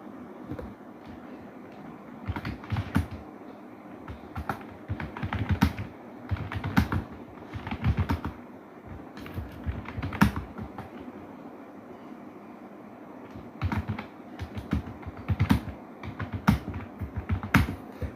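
Fingers tap on a computer keyboard while entering text into a blank MS Word document, with bursts of quick clicks separated by short pauses across the whole stretch.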